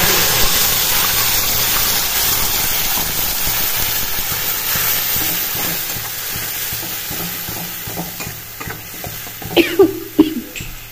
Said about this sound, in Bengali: আমি গ্যাসটা ধরিয়ে তেলটা গরম করে তার মধ্যে কিছুটা কালো জিরে গরম করে নিয়েছি।